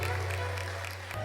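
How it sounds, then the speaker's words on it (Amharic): Sustained clapping and shrill ululation rise from a church congregation in worship, a busy, continuous crowd sound over a low steady hum. "እልልታ ጭብጨባ ለጌታ"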